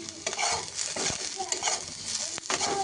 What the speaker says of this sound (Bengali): দিয়ে এগুলো ভালো করে 2 মিনিট ভেজে নেব